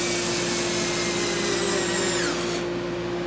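A power drill whines steadily, driving pilot screws into a plywood kitchen cabinet, a continuous high motor hum with a slight pitch shift before it cuts off abruptly.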